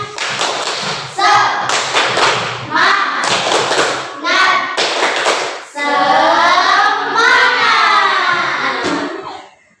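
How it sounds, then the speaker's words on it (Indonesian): Rhythmic clapping chant in a sixth-grade classroom lesson: bursts of sharp claps in a patterned beat alternate with a chanted voice, ending in a longer sung-out line. "Tepuk semangat."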